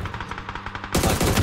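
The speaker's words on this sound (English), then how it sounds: "I hate this gun so much, bro." Automatic gunfire from a gun in a multiplayer shooter video game, loud rapid bursts that grow denser and heavier in the second half, with no talking over them.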